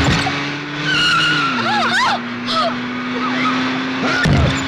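A car driven fast with its tires skidding: rising and falling tire squeals over a steady engine drone, fairly loud and close, with voices talking over the noise.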